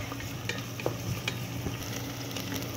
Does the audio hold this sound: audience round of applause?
no